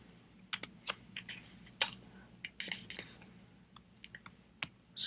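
Typing on a computer keyboard while entering a program name, heard as a short, uneven burst of crisp key clicks, close and fairly quiet, with no voices.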